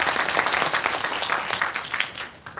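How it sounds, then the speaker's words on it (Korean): An audience at a Korean business presentation breaks into brief, dense applause, a burst of many hands clapping together that fades quickly. "이무정 리더님께 박수 한번 부탁드립니다"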